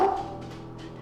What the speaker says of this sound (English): Why are you barking at nothing?